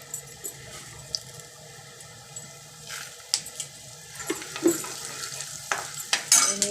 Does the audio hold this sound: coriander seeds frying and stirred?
yes